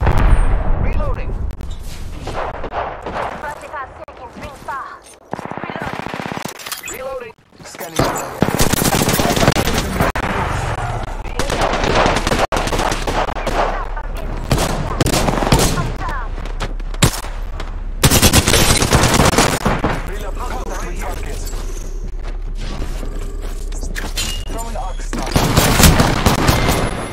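Gunfire in the video game Apex Legends, loud rapid automatic bursts and heavy shots crowding the mix with short gaps, along with game voices and effects.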